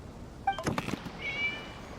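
A cat meows in the Genshin Impact video game, a short high, tonal cry followed by a longer rising meow with a faint thud between, heard alone over quiet game ambience.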